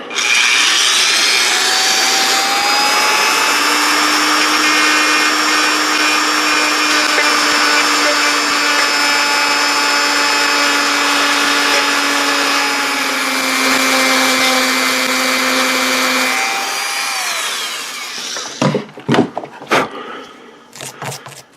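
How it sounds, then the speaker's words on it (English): Power tool polishing a Taurus Spectrum pistol slide clamped in a vise, a steady loud whine with sustained tones running about seventeen seconds at slow speed, then spinning down into a few sharp clanks and knocks. "so now I have the slide in the vise, so let's see if we can polish that up a little bit"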